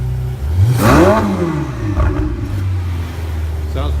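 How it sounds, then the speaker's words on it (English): A Ferrari 488 with its stock muffler exhaust gives a single loud neutral rev that rises sharply and falls back to a steady idle, heard up close and alone. "So here's the stock muffler setup with a little neutral rev."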